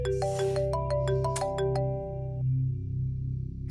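A mobile phone rings indoors in a domestic drama, a melodic electronic ringtone of repeated tonal notes over a low background hum, then cutting off partway through.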